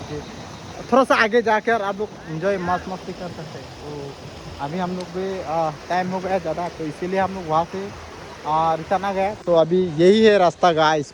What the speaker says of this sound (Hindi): ये देखो पानी की आवाज़ आप लोग सुन सकते हैं